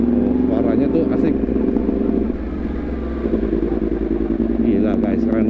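A modified Yamaha R1 60th Anniversary with a crossplane engine rumbles nearby, its throbbing exhaust dipping briefly and then rising again, while someone talks over it throughout.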